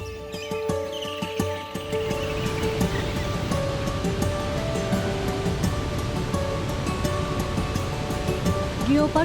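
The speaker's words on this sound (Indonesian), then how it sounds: "Suara air terjun memberikan ketenangan pikiran dan hati." Rushing water from a tiered waterfall at Ciletuh Geopark in West Java, a steady broadband roar filling the whole stretch, loud and continuous with wind buffeting the microphone.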